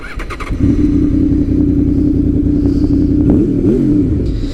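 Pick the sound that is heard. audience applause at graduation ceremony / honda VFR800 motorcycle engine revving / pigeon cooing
honda VFR800 motorcycle engine revving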